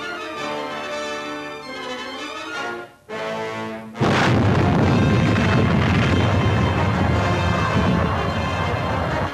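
In a 1943 wartime newsreel, a torpedo strikes a ship: a tonal musical passage stops for a brief pause, then a loud sudden blast bursts into a sustained, roaring rumble that fills the rest of the clip.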